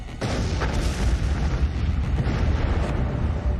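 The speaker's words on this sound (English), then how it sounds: "Extraordinary footage shows the moment an explosion laid waste to the Kerch Bridge" A massive explosion on the Kerch Bridge linking Russia to Crimea: a sudden loud blast followed by a sustained deep, roaring rumble that fills the whole stretch without pause.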